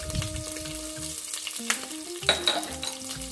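Asafoetida and curry leaves sizzle and crackle in hot oil for coconut rice, a close, lively frying hiss with a few sharp spits and pops, no talking.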